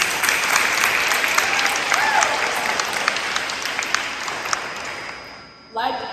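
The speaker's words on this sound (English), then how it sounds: "So give yourselves a round of applause for that." Audience applause at a 2022 school sports awards banquet, a steady wash of clapping from a large room that carries on for several seconds, thins out toward the end, then briefly picks up again.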